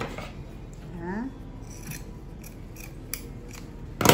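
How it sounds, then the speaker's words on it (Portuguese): Scissors cut fabric along the edge beside a sewn zipper while making a pet bed, giving a few close, crisp snips over a quiet room. "Eu vou cortar até aqui a beiradinha."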